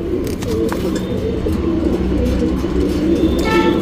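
Tournament pigeons coo loudly and continuously at close range, their layered throaty calls overlapping in a steady murmur.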